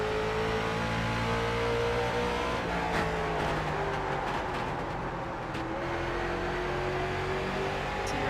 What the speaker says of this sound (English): See the shift light ticks on in straightaways as the cars get close to the rev limit.